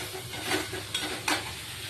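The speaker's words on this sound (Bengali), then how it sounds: "জল দিয়ে কষিয়ে নেবো" Dal masala with onion and garlic cooks in a pan, giving a steady close sizzle broken by a few quick stirring scrapes.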